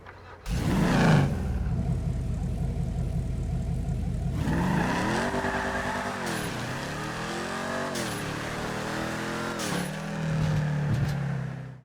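Muscle car in GTA V, its engine revving hard and then holding a steady drone that rises and falls with shifting pitch as it drives, loud and close throughout.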